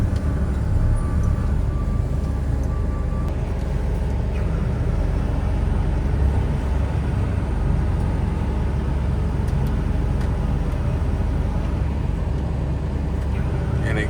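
Grain pouring into a lorry at a farm grain store, about 29 tonnes per load, makes a steady, loud, dense rumble of rushing grain and machinery that continues unbroken throughout.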